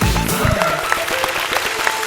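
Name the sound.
audience applause for a singer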